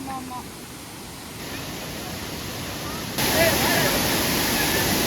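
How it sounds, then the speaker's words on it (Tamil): Waterfall roaring steadily at a scenic spot, heavy spray drifting close by, a dense broadband rush that grows louder partway through and continues unbroken to the end. "இங்கேயே சாரல் பயங்கரமா அடிக்குது"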